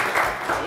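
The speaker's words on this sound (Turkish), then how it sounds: "Üzgün üzgün alkışladılar." A brief burst of studio audience applause from a Turkish television word-game show, dense and steady clapping heard close and fairly loud for under a second.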